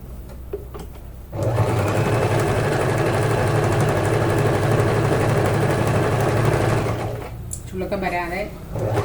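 A sewing machine stitches a belt onto a saree blouse, running as a loud, steady mechanical whir for several seconds before stopping, with brief handling sounds and a voice around it.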